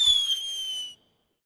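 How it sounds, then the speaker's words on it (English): A short fizzing flare from wax lips tossed into a fire in The Secret of Monkey Island game, a bright hissing burst with a thin whistling tone that holds for about a second and then cuts to silence. "Throw wax lips in fire."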